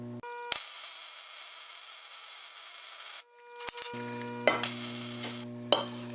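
Welding on tubing for a 1998 Ford Ranger front bumper, with a steady buzzing arc hum running for a few seconds, a pause, then further short bursts of arc with clicks and sharp pops.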